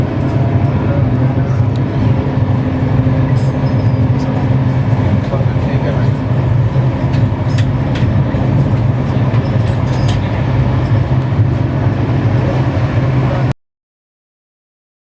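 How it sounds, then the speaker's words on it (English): A steady, loud rumble of a semi high speed Indian Railways train running at 160 km/h between Agra and Delhi, continuous and close, cutting off abruptly near the end. "this is the fastest train of Indian Railways, barreling at 160 km, 100 miles an hour"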